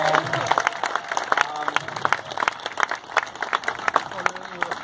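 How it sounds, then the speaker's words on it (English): Audience applause at a street performance show in Stockholm for a performer dressed as Spider-Man, crowd clapping with cheers and voices mixed in, steady and moderately loud throughout. "Everyone, a big round of applause for Spider-Man"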